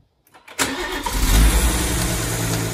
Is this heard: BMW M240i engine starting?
yes